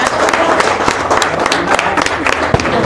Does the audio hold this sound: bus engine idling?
no